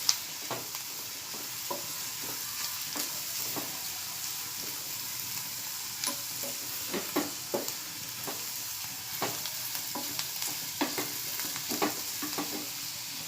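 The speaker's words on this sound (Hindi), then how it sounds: "और इसे भी शिमला मिर्ची के साथ तेल में भूनूंगी।" Grated carrot and chopped capsicum fry in oil in a pan, giving a soft steady sizzle with scattered stirring scrapes and clicks of a spoon, close by and with no talking.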